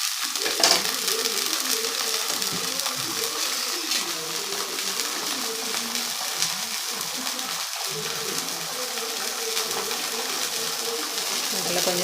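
Water bubbles and sizzles in a pan while drumstick leaves cook for murungai keerai poriyal, a continuous close crackling hiss with occasional stirring scrapes and faint dove-like cooing in the background.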